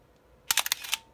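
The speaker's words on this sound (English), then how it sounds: "you can see the shutter operate" A Minolta Maxxum STsi film SLR fires its shutter: a sharp mechanical click followed by a quick whirring rattle of the mirror and film-advance motor, close and brief.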